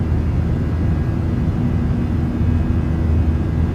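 Boeing 737 jet engines roar steadily through a crosswind takeoff and climb in Microsoft Flight Simulator, a loud, continuous low rumble with no break.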